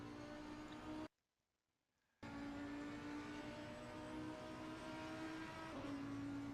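An Audi race car in a sim racing game at Brands Hatch, a steady onboard engine drone that cuts to near silence for about a second before resuming at a constant pitch.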